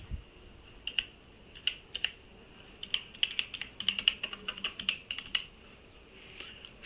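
Rapid keystrokes on a computer keyboard as an employee ID is entered into an online form, irregular clusters of crisp clicks close by with short pauses, no talking.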